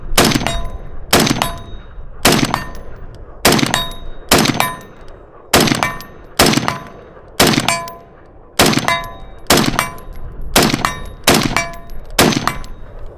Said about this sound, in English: enjoy me shooting at 180 or like almost 200 yards at a BC zone